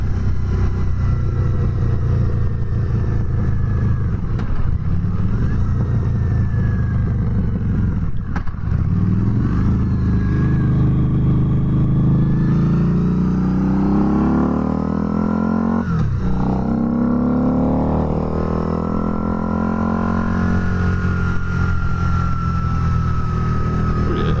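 Harley-Davidson V-Rod Night Rod Special with a SuperTrap exhaust, ridden on the road: a loud, close, continuous engine drone whose pitch sweeps up and down through gear changes and throttle, with wind rush throughout.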